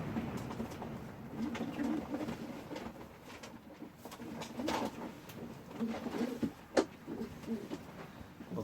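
Satinette fancy pigeons cooing in a loft, soft repeated low coos with light rustling and a few sharp knocks in the background, fairly quiet throughout.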